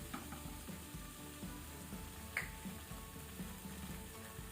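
Soya chunks fry with tomato sauce in a pan over a low flame. A faint, soft sizzle carries scattered small crackles and pops, with no talking.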